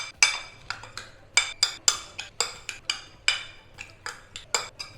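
Chicken marinade of yogurt and ginger-garlic paste stirred in a bowl, a utensil clinking against the dish in a steady rhythm of about a dozen sharp, close taps with soft scraping between them.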